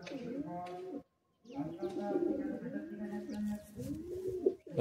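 Madrasi pigeons coo in repeated, rounded, throaty phrases close by, with a short pause near the start. Someone talks over the cooing at times.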